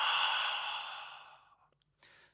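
A long, audible exhale of warm breath through a constricted throat, like warming cold hands, fading gradually, followed by a faint short breath.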